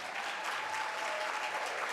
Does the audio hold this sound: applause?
yes